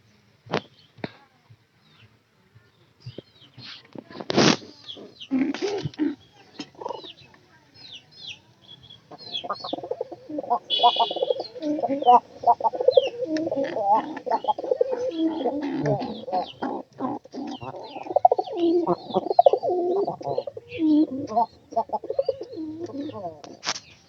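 Domestic pigeons coo in repeated throaty, rolling calls, close by and fairly loud, alongside flapping and scuffling noises, with a voice speaking at times.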